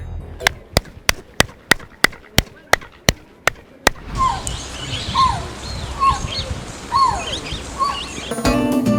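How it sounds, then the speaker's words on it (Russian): Ten sharp handclaps in a steady rhythm in front of a pyramid near Mexico City, then a series of chirping echoes that sound like a quetzal bird calling, over busy outdoor noise. "Если встать напротив пирамиды и хлопать в ладоши, то можно услышать, как кричит птица Кецаль"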